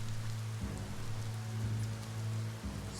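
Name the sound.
rain in video game Biomutant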